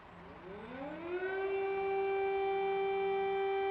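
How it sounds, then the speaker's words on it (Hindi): An air raid siren in a Ukrainian city winds up from low to a high, sustained wail, loud and steady, echoing with no voices. "एयरफोर्स का सायरन बज रहा है यूक्रेन में"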